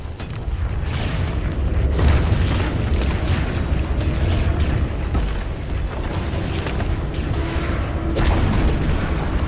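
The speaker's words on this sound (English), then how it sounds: "Dire's middle tower has fallen." Booming explosions and crashing impacts as a tower is destroyed in the Dota 2 video game, a dense, loud, continuous battle din with repeated heavy bursts across the whole stretch.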